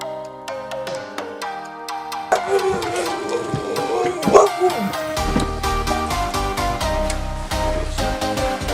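Many huskies bark and yip together in an echoing indoor kennel room, a loud, overlapping chorus of sharp barks that keeps going throughout.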